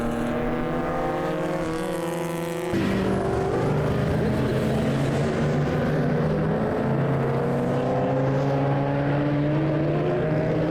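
A race car in a circuit race, the E45, driving past with a loud, sustained engine drone that shifts pitch through a gear change, and a commentator talking over it.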